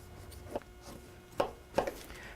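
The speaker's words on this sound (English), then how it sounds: "get a little knife out and then start cutting" A small knife cuts around the edge of a pie crust for a Mediterranean chicken pie, making three short, distinct cutting taps against a quiet background with no talking.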